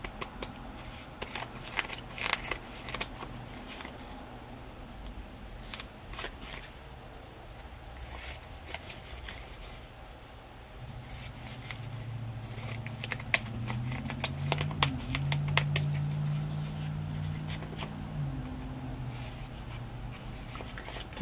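Scissors trimming fabric and lace for paper tags in a journal, crisp close snips and rasping cuts repeating unevenly, with a low steady hum beneath, no talk.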